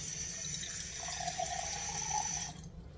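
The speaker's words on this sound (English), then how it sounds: "I'm going to add very little water to this." Tap water runs steadily into a pan of Swiss chard, a near continuous stream lasting about two and a half seconds, then cutting off.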